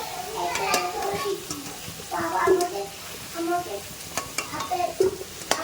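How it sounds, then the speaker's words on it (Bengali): Diced potatoes frying in oil sizzle under clattering stirring, with a voice talking throughout in short bursts. "তো সেগুলোও দেখো লাল করে ভেজে নিচ্ছি"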